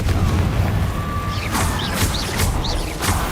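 A Confringo fire spell in the Hogwarts Legacy game bursts with booming blasts amid a rumbling battle din, with several sharp chirping magical zaps layered over the low roar.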